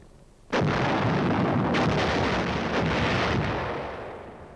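A military artillery gun fires with a single sharp blast that starts abruptly, then a loud rolling rumble lasts several seconds, with a few crackling echoes before it slowly fades.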